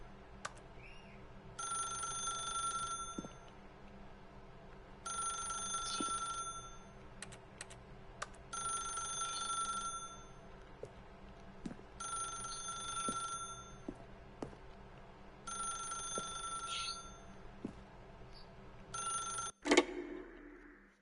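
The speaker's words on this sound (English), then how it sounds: "then pick up the phone." A telephone rings in The Stanley Parable video game, repeating in bursts of about two seconds with short pauses between them, steady and fairly loud over a quiet room tone, with a click near the end.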